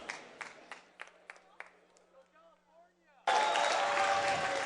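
Talk with light scattered clapping gives way to a sudden burst of loud crowd cheering and applause that continues to the end, at a Major League Gaming (MLG) esports championship event in Anaheim.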